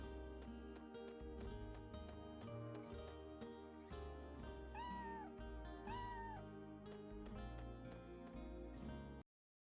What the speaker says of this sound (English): Must pet all the cats.